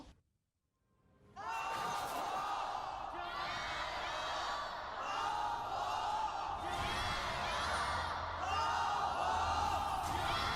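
A simulated crowd cheering for JDG and Top Esports at the 2020 LPL Summer Finals, loud sustained chanting and whooping after a brief silence, swelling in rhythmic waves.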